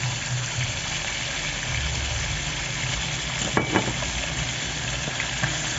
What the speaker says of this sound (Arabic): اديها تشويحه